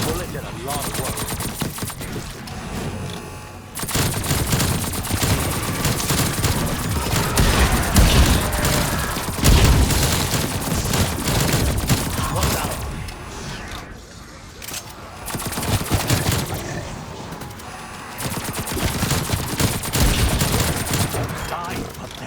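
Gunfire from Call of Duty Cold War Zombies on the Forsaken map, with dense bursts of rapid shots and booms running almost nonstop, loud and close, broken by brief lulls.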